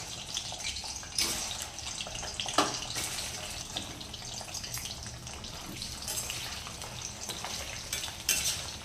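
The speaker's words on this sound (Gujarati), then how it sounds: "આપણે બટાકા બધા જ ઉમેરી દઈશું આ તેલમાં અને આપણે તેને સેલો ફ્રાય કરી લઈશું." Potatoes shallow frying in oil for Kathiyawadi dum aloo, a moderate continuous sizzle and bubbling with occasional stirring scrapes, close and fairly even throughout.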